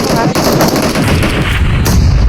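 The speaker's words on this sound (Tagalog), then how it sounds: "Nagkapalitan po ng granada dito ang Team 10." Grenade explosions and gunfire from the video game PUBG form a loud, dense, continuous barrage of shots and blasts that fill the whole short stretch.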